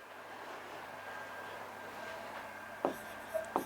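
A pen scratches out an answer on paper, faint and quiet in a still room, with a couple of short, sharper strokes near the end.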